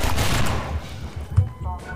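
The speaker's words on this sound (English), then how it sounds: "Stop shooting me." Gunfire in Half-Life 2 crackles in quick bursts with thumping impacts, loud and close, in a busy firefight.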